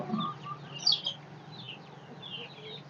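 A hen clucks softly in a farmyard while laying eggs, with a few short calls, one slightly louder, over a faint background hum.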